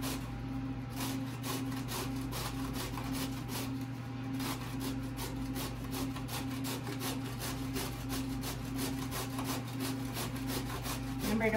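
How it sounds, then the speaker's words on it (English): Carrot is grated on a hand grater in a kids' cooking session, an even series of scraping strokes repeating for several seconds over a low background hum. "Remember to watch your fingers when you're grating."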